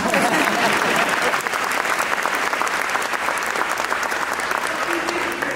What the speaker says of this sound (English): oh yeah, we'll clap